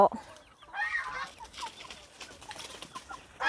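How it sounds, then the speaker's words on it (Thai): Soft high peeping and cheeping of ducklings and chicks, scattered chirps close by against a quiet background. "อันนี้เป็ดน้อยนะ เป็ดน้อยกับไก่น้อย"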